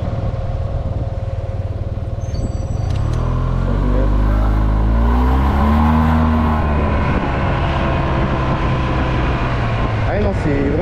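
A Yamaha TMAX scooter accelerates with a rising, sweeping engine and transmission whine under strong wind rush, the pitch climbing and falling as speed builds.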